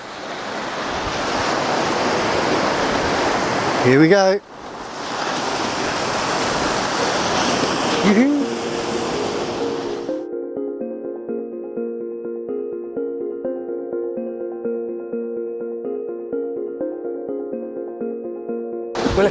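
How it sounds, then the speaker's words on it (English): Ocean waves break and wash onto the shore in a loud, continuous roar of surf with a brief lull partway through, then fall away as steady music takes over. "Here come the waves."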